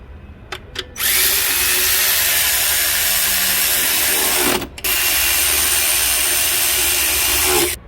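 Power tool driving and tightening 10mm bolts, two short bursts followed by a long loud continuous whir, a brief pause, then another sustained run close up.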